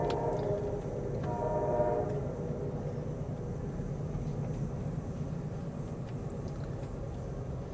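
Deep rumbling roar of a passing Amtrak passenger train, heavy and continuous, with a brief horn-like tone early on and rattling wheels on rails.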